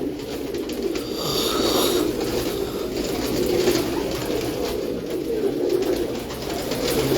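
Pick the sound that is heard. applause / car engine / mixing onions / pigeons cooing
pigeons cooing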